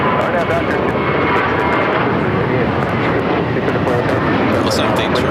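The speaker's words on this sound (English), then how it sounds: "Looks like the Turkish A350 taking off on the north side at 24 to the left." A Turkish Airlines Airbus A350 takes off from the north side of LAX, its engines making a loud, steady jet roar that holds throughout.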